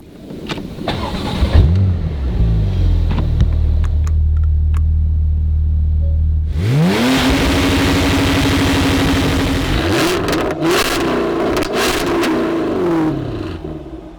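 A 2014 Porsche 911 Turbo S Cabriolet idles, then its engine is held at high revs on launch control before it launches hard, rising through the gears with a loud, close roar and a clear shift.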